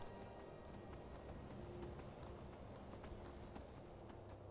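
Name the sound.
horse hooves galloping in video game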